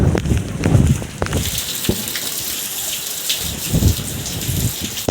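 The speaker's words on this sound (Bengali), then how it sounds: "এত বৃষ্টি হলে কি কাজ করা যায় কোনো?" Heavy rain pours down in a dense, steady hiss, with occasional louder splatters and low rumbles mixed in.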